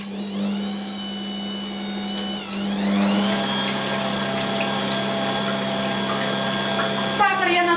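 An electric mixer whips Prague cake batter, first at low speed, then shifting to a higher, louder whine that rises in pitch and holds steady, with a strong continuous hum throughout.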